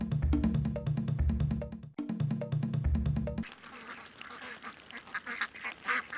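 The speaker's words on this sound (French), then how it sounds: "c'est une véritable armée de plus d'1 millier de canards qui envahissent le vignoble de Wegener en Afrique du Sud" A flock of more than a thousand ducks roams a vineyard in South Africa. Rapid, layered quacking from many birds comes in the second half, while loud rhythmic music fills the opening seconds.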